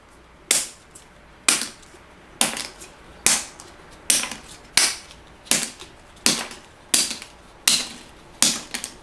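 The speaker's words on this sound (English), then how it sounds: "these cards also produce a very, very satisfying clack when thrown down" Shiki playing cards, thick cards used for Hanafuda fishing games, thrown down one at a time. Each lands with a crisp, loud clack, about eleven in all at an even pace of roughly one per second, close by and with no talk.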